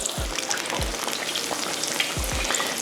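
Fish fillets deep frying in hot oil, a steady close crackling sizzle with a few low bubbling thumps spaced irregularly through it.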